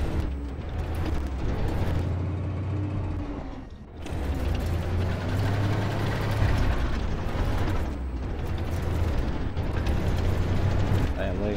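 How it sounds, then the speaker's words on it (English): Artillery fire and tank combat in the Armored Warfare video game with a Challenger 1 tank, loud continuous booming and mechanical rumble, with a brief dip near the middle and game voice callouts over it. "And we got the artillery going"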